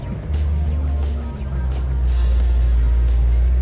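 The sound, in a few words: 1969 AMC SC Rambler muscle car engine running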